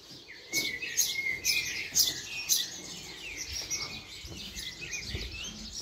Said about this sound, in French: les oiseaux locaux qui sont rentrés